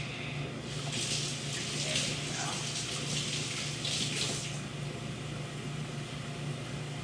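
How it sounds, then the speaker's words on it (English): A kitchen tap runs steadily while dirty mushrooms are washed under it. A constant broad rush of water sits close by, with faint splashes and shifting as the mushrooms move in the stream, and no talk. "I'll give them a quick wash because these are kind of dirty."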